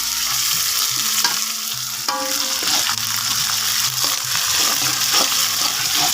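Spice paste stir-fried in a pan for sambal goreng telo, sizzling steadily with repeated scraping and stirring strokes from a spatula, close and fairly loud, with no voices.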